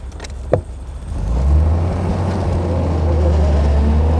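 A 1934 Mercedes 290 Cabriolet D on a test drive, its engine settling into a steady low drone with road rumble after a short knock near the start, loud and close with no talk.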